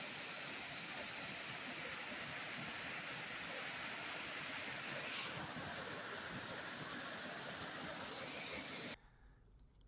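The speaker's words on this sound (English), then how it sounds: "there's a waterfall right here." Waterfall in an Alabama state park, a steady broadband rush of falling water filling the whole span, loud and continuous, cutting off abruptly near the end.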